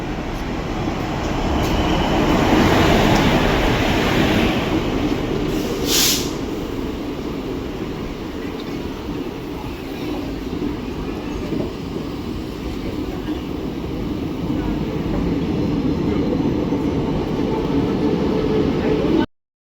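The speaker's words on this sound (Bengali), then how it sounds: "4:15 ট্রেন ঢুকলো হচ্ছে বিষ্ণুপুর স্টেশনে" The Aranyak Express pulls into Bishnupur station, its rolling rumble loud, close and steady for about twenty seconds, with a faint murmur of people underneath.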